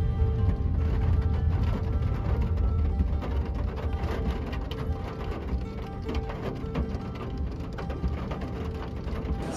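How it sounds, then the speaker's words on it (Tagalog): Heavy rain pours steadily in a dense, unbroken hiss with a low rumbling undertone, continuous and fairly close throughout with no talking. "Super lakas pa naman ng ulan."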